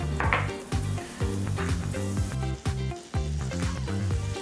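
Butter sizzles in a hot pan while making agnolotti, a continuous close frying hiss under faint background music, with a few soft knocks and no speech.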